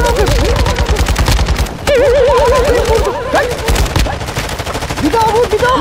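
Rapid automatic gunfire from the video game Call of Duty rattles loud and close in sustained bursts, with a brief gap partway through, while players talk over the shooting.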